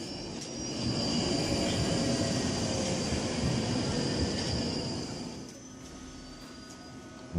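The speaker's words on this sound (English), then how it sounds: "And here comes the train." An underground train rumbles steadily into a station with a broad, roaring hum and a faint high whine, then the noise eases toward the end as it slows.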